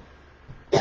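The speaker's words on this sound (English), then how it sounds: "this fan is making me cough" A single short cough from a person bothered by a fan, close and fairly loud at the end after a faint throat sound, with quiet room tone before it.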